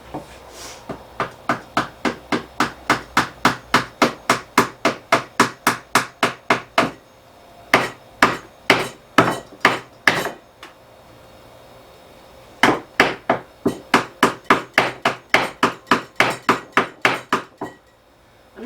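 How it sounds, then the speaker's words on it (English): Hammer blows on a wooden epoxy-filled circular table, struck in two long steady runs of sharp, evenly spaced knocks with a short pause between, close and loud with no talking. "I'm not very precise with my hammering"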